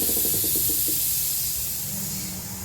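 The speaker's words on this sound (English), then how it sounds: "pre-spray them with WD-40" WD-40 sprayed onto old electrical connectors of a 2009 Chrysler Town & Country during lower intake manifold work: a steady, close aerosol hiss that runs throughout and fades slightly toward the end.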